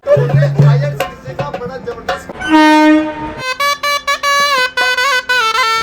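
An Indian Railways train arrives at a station amid busy platform noise, with loud horn-like tones and ringing, tonal announcement sounds layered over chatter and rail clatter.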